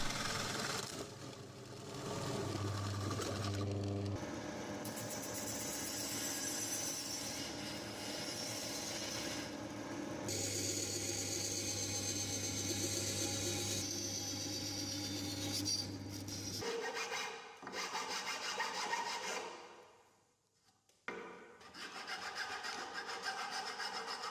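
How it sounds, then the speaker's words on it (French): A drill and band saw whine and grind steadily through wood, with a continuous buzzing saw sound that briefly cuts out and restarts near the end. "à la perceuse et à la scie à ruban, je découpe l'intérieur des poignets"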